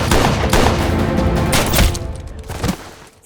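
Dense, loud gunfire from an action movie shootout, with overlapping shots and booming impacts packed together in a continuous barrage that fades slightly at the end.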